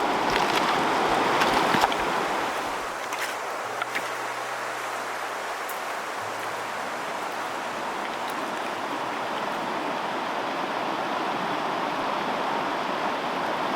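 A wild trout river in Idaho flows with a steady, full rushing wash close by, broadband and continuous throughout, with a brief louder splash near the start and no talking.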